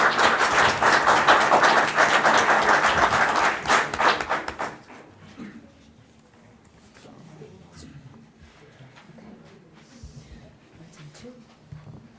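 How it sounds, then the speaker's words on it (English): Applause in a room at a town board meeting: steady clapping for about four and a half seconds, then it stops abruptly, leaving a quiet room with faint scattered noises. "anything that deserves a round of applause, it's that"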